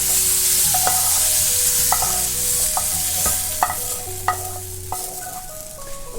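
Vegetables sautéing in a cooker pan for brinjal gotsu, a loud continuous sizzle broken by repeated scraping and clinking as a spoon stirs them, close and with no voices.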